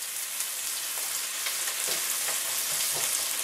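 Onions sauteing in a pan for keto taco meat, a steady close sizzle and crackle of frying with a few soft stirring scrapes, no talking.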